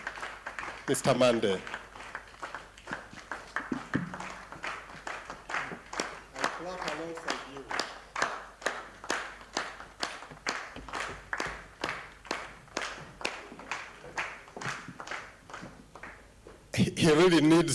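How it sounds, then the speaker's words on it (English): Rhythmic, moderately sized audience applause greeting a speaker walking onstage at a World Theatre Day event, many claps in a steady pulse for most of the stretch, with a voice speaking at the start and end. "as we give him a round of applause as he comes here"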